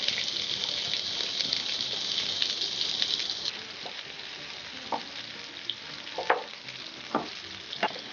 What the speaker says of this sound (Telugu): చిట్టపట్టలాడుతున్నాయి. ఉల్లిపాయలు వేస్తున్నా.